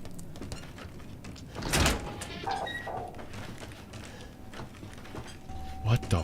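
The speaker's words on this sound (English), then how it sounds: "Least obvious secret door." A hidden sliding door grinds open in a video game, a broad mechanical whoosh and thud rising briefly amid game sounds and background voices, followed by a faint tonal hum.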